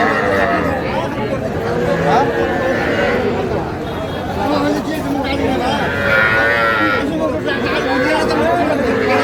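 A roughly three-month-old crossbred bull calf moos at a busy cattle market in Manikganj, with long lowing calls rising over dense crowd chatter and nearby voices.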